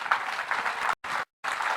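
Steady applause from a conference audience opening a session, a continuous wash of clapping broken by two abrupt silent gaps.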